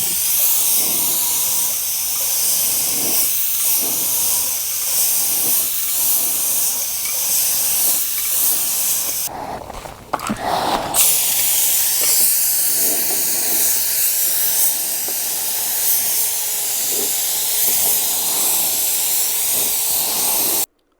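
Spray gun hissing as it paints the fuel tank of a Suzuki GSXR 1000, a close, loud steady spray in repeated passes with a short break midway before spraying resumes.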